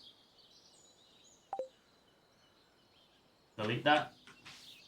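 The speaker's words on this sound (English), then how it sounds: "Why the birds whistling?" Short bird chirps and whistles from the Stardew Valley video game, faint and sparse, with a brief tone early on and a voice speaking over the end.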